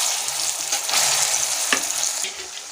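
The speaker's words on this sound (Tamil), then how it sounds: "கடுகு இப்போ நமக்கு நல்லா பொரிஞ்சு வரட்டும்." Mustard seeds spluttering in hot oil, a loud, dense crackle and hiss of many rapid pops, close and continuous, with one sharper burst partway through.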